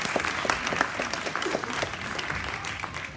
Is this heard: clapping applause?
yes